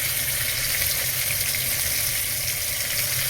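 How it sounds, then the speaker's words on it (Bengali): Potatoes frying with onions in a pan: a dense, continuous sizzle, loud and close, with no pauses. "পেঁয়াজের সাথে আলুটা তুলে দিয়েছি, একটু ভাজা ভাজা করে নিচ্ছি"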